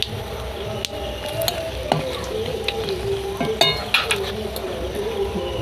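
Panch phoron and dried chillies sizzle steadily in hot oil left from frying fish heads, a constant close frying hiss broken by scattered sharp pops and crackles, with no talking.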